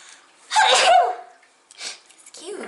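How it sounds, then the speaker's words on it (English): A single sharp sneeze from a woman at a tarot-style card reading, close and loud, followed by a brief breathy sound and faint murmuring. "Oh, I'm gonna sneeze."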